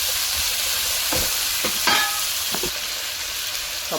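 Garlic and adobo fry in a pan and are stirred, giving a continuous loud sizzle with several scraping knocks of the utensil against the pan, and no talking.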